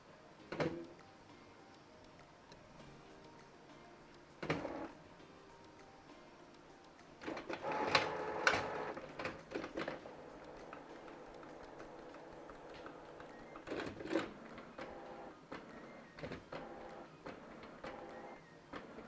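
A Canon Pixma G3730 inkjet printer runs its mechanism during first setup, giving intermittent whirring, clicking and clunking movements at close range, with short bursts and a busier stretch in the middle and no talk.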